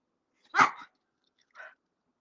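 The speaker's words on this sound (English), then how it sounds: "I want to let him bark a little bit so you guys can see" A dog gives two alert barks indoors, a louder full bark followed a second later by a shorter, softer one, close by and otherwise surrounded by silence.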